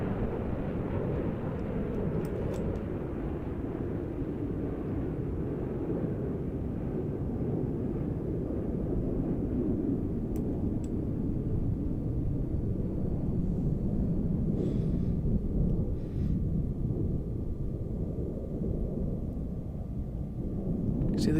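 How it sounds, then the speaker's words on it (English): Roaring jet rumble of an F-16 fighter performing aerobatics at a virtual air show in Roblox, a steady loud engine wash that holds throughout with a few faint high clicks. "That's a very fast F-16, that."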